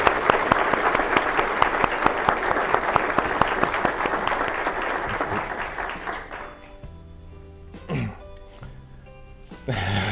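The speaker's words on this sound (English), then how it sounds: "Give him a round of applause." Audience applause for Pete, a former society president, at an event: a dense room of clapping hands for about six seconds, then fading out before brief sounds follow.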